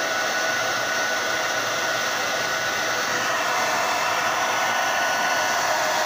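A hair dryer blows steadily and loudly while a round brush resets a mustache curl, a constant close whoosh with no talk.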